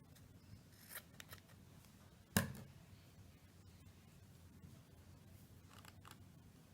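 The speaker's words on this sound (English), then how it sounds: "use that and cut the other strips the same size" Scissors snip through strips of paper for a buffalo check Christmas ornament, with a single sharp cut standing out amid a few lighter snips and faint rustling in an otherwise quiet room.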